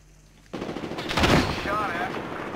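Gunfire in the video game Apex Legends erupts suddenly as rapid automatic shots, loud and close, continuing as a burst for about two seconds with a voice briefly audible over it.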